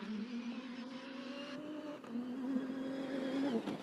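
A rally car idles and pulls away from the start line of the Abu Dhabi Desert Challenge, its engine a steady mid-distance drone that swells and rises near the end.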